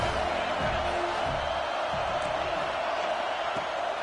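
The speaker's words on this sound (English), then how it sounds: "This crowd bringing the energy and noise early." A stadium crowd at an Ohio State football game, a broad, steady roar of cheering and noise heard from within the stands, continuous and moderately loud.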